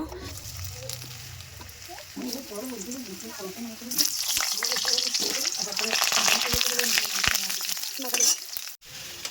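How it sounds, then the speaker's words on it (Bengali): Potatoes for a home-cooked mutton curry fry in a little white oil, giving a loud, close, steady sizzle that swells halfway through, with occasional utensil clicks and someone speaking over the start. "প্রথমে আলুগুলো ভাজবো অল্প একটু তেল দেবো সাদা তেল দেবো প্রথমে আলুগুলোকে ভাজার জন্য"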